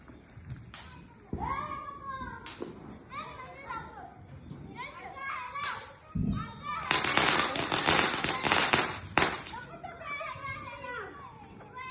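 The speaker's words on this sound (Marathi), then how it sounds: "सगळे फटाके फोडत होते" Firecrackers burst sharply several times during a village festival, including a long crackling volley, amid children shouting and chattering nearby.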